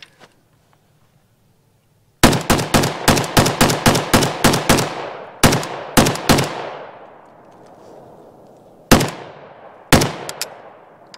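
Sharp, loud rifle shots from a WBP 5.45mm AK74-style Jack rifle, a rapid string of about a dozen cracks followed by a few spaced single shots, each ringing out outdoors with a decaying echo.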